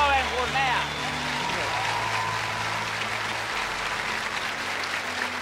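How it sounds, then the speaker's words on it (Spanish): Studio audience applause for El Gordo Benjumea on The Susos Show, a broad wash of clapping filling the room while a voice and music tones fade out at the start. "vamos a darle otro fuerte aplauso grande"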